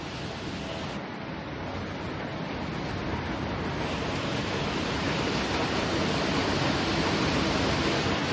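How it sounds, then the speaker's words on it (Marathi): Dense, steady roar of heavy rain pouring down on a village in Khed, a constant broadband hiss that grows slightly louder, with no voices. "खूप पाऊस पडतोय मित्रांनो गावी"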